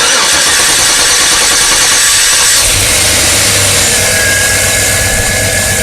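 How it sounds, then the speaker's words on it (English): A 2006 Chevy Suburban with a 5.3L V8 and a suspected bad fuel pump check valve cranks and starts, its low engine rumble firming up midway and settling into a loud, steady idle close by with no talk. "engine on. Go ahead and start it."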